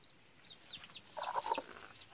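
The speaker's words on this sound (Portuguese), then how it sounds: "Aqui tem outra galinha. Essa galinha aqui tá chocando." Hens cluck softly in a henhouse where one hen sits brooding on a nest, giving a few short, fairly close clucks and calls alone, with no talk, against a quiet background.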